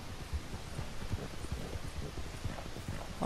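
Horse hooves clip-clop in the rain in Red Dead Redemption 2, a steady rhythmic trot of soft, muffled thuds over a low wash of rain and rustle, with a brighter burst right at the end.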